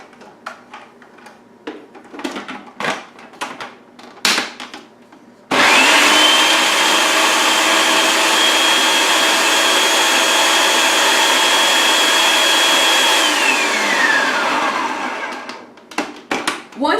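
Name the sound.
blending garlic, nuts and olive oil for basil pesto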